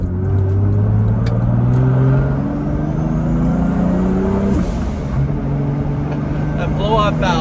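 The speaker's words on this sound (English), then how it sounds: "That blow-off valve sounds so good." Turbocharged Toyota Supra with a big turbo revving to around 3,000 RPM, a loud, close engine drone rising in pitch with steady exhaust roar, with a speaker talking over it.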